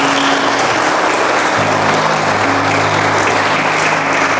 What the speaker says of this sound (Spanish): Denle una ofrenda de aplausos a nuestro Dios.